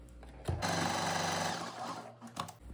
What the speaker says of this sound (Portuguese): E agora só termino de costurar.